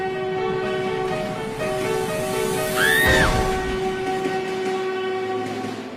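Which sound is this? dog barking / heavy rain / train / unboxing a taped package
train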